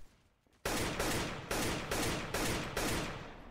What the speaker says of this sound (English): there's another guy, some shots going on right now